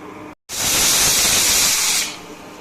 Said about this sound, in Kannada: ಒಂದು ವಿಸಲ್ ಬಂದೈತೆ ಈಗ ಸ್ಟವ್ ಆಫ್ ಮಾಡಿ